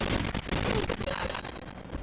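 Rapid, dense Uzi bursts from GoldenEye 64 fill the whole stretch, loud and continuous with brief dips between volleys and no talk over them.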